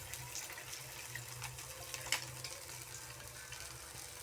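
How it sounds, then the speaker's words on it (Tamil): Water is poured into a pot of rasam while cooking, a quiet continuous trickle and splash heard alone and close by. "ரசத்துக்கு தேவையான அளவு தண்ணி போட்டுக்கலாம்"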